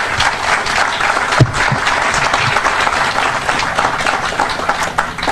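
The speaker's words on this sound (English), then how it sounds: "please just join me in one additional round of applause for everyone here." An audience at a riverfront development plans unveiling breaks into sustained applause, a dense, loud wash of clapping from a large crowd that carries on steadily throughout.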